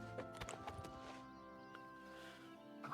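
A horse's hooves clip-clop at a walking pace in the video game Oblivion Remastered, a run of soft, faint hoof strikes set over a steady background of game music and ambience.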